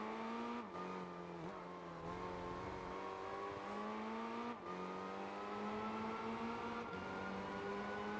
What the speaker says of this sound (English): It is a rally car.